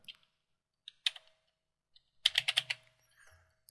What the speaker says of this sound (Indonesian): Saya ketik di sini nama.